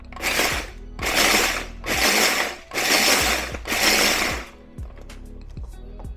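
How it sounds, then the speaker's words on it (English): Pepper mill grinding coarse black pepper for homemade pastrami: five loud, close, gritty grinding bursts in a steady rhythm, each lasting under a second with short pauses, then quiet. "I'm just going to go ahead and give it a quick grind."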